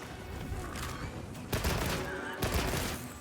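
Light bowgun firing piercing ammo in Monster Hunter Wilds, a rapid fusillade of gunfire with two heavier blasts over a dense game soundscape.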